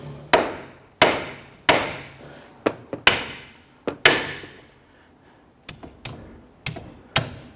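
A pry bar strikes a Honda Ridgeline outer tie rod end in a series of about a dozen sharp metallic whacks at uneven intervals, close and fairly loud, with no talking.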